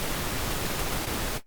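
Pink noise from a Hive 2 synthesizer fills the clip as a dense, even wash of hiss that holds steady and loud, then cuts off abruptly at the end.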